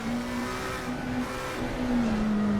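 A McLaren 720S GT3 race car in Assetto Corsa Competizione at the Zolder circuit gives a steady, high-pitched engine drone whose pitch wavers slightly as it holds revs, loud and close, with no voices.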